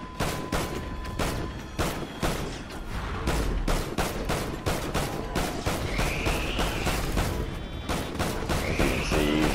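Rapid, sustained automatic gunfire from a weapon in Call of Duty Ghosts Extinction, a dense unbroken stream of loud shots filling the clip with occasional high electronic tones layered above, no talking.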